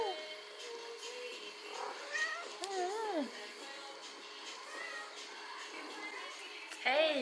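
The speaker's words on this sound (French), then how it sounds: "Oh oui, mon chat." A two-year-old cat meows several times, with short rising and falling calls near the microphone in a quiet room, and a final sharper meow at the end.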